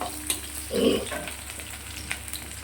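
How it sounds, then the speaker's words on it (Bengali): Chopped onion and green chilli dropped into hot tempering oil for dal, giving a soft, quiet sizzle with one brief, fuller burst of crackling partway through. "এখানে দেখো পেঁয়াজ আর কাঁচা লঙ্কা ফোড়নে দিয়েছি"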